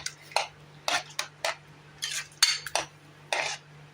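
Rava pongal is stirred in a pan, a spoon knocking and scraping against the metal in quick irregular clinks, a dozen or so distinct strikes over a faint steady hum, close up with no voices.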